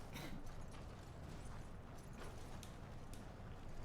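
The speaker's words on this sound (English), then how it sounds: "I'm just gonna get off the horse." Horse galloping in the video game Elden Ring, a quiet, steady run of hoofbeats with a few sharper thuds, continuous throughout and somewhat distant-sounding.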